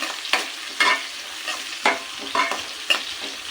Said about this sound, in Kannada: ಈರುಳ್ಳಿನ ಸೇರಿಸ್ತಾ ಇದ್ದೀನಿ. ಇದನ್ನು ನಾನು ಇವಾಗ ಚೆನ್ನಾಗಿ ಫ್ರೈ ಮಾಡ್ಕೊತಿದ್ದೀನಿ